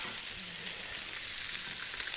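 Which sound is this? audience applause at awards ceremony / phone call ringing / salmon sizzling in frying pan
salmon sizzling in frying pan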